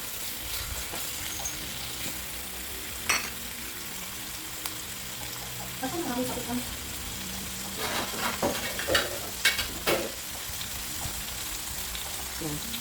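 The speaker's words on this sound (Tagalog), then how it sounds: "Igisa natin ng mabuti ang ating chicken para mawala yung lansa." Chicken sizzles and fries in a pan for adobo sa gata, a continuous hiss broken by scraping stirs and clatter, with someone talking over it at times.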